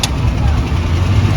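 Motorized tricycle engines run steadily nearby on a town street heading to a St. Michael's feast-day church, a continuous mid-low rumble with faint voices underneath.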